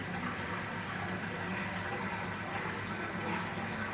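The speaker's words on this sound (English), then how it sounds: "water coming out the top of the pipes" Water pours steadily out of the tops of pipes at a weir-like channel, giving a continuous broadband rush and gush that stays even throughout, close and alone.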